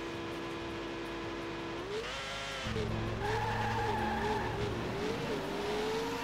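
Race cars launching off the grid at the start of a Formula One race in the Dreamcast game F1 World Grand Prix: engines whine and rise in pitch with tire squeal, loud and continuous, with no speech.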